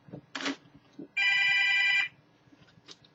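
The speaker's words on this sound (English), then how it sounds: "That was a phone" A telephone rings indoors in one loud, steady electronic burst of about a second, after a few faint soft knocks and rustles and before quiet room noise.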